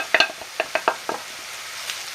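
Curry spices (turmeric, garam masala, paprika) stirred into frying onion in a pan: a handful of quick scraping utensil strokes over a soft sizzle, close and short.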